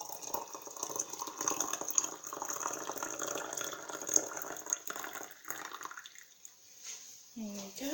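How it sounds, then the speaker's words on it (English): Hot water is poured from a kettle into a teapot, a soft continuous trickling stream that thins and falls away near the end, followed by a brief clink of the pot. "you have your kettle, and you pour the hot water into said pot"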